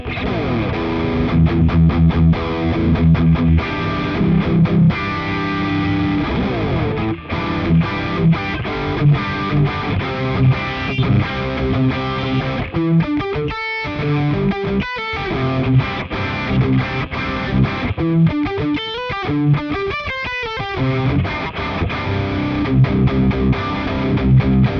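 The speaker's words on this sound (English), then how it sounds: "Now let's hear some heavy rhythm tones. Let's start with the Prometheus Nano." Heavy rhythm electric guitar played through a Prometheus Nano distortion pedal: loud, saturated palm-muted chugs and chords with tight stops and short rhythmic bursts, played alone with no talking.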